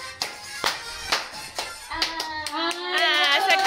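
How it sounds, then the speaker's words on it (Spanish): Family clapping hands at a Christmas gathering at home, several sharp separate claps spaced out in a loose rhythm, then a voice and other voices take over as the claps stop. "aplaude."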